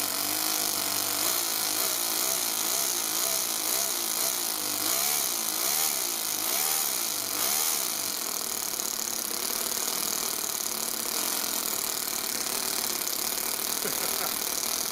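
A four-stroke overhead cam engine installed in an RC car runs steadily with a loud, buzzing drone that is close and constant, and its tone shifts slightly partway through.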